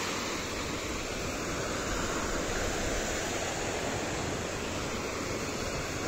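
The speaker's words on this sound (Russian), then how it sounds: "Вчера прям спокойно-спокойно было море, а сегодня не такое спокойное." Rough sea surf on a Spanish coast rushes in a steady, broad wash of breaking waves, constant and fairly loud with no clear individual crashes and no talking.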